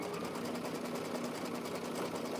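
An embroidery machine stitches an in-the-hoop eyeglass case with metallic thread, a steady, fast, close mechanical whir with a rapid needle rhythm running throughout, no voices.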